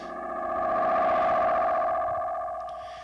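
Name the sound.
Binson EM6 T7E analog delay echo effect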